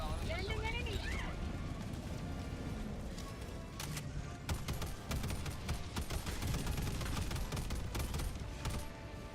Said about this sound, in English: Orbital strike incoming.